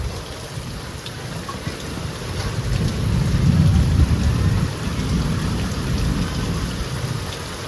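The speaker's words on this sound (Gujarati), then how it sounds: "એટલો બધો વરસાદ ચાલુ થઈ ગયો." Heavy rain pours steadily over flooded farm fields, with deep rolling thunder swelling in the middle before easing back into a dense, constant downpour.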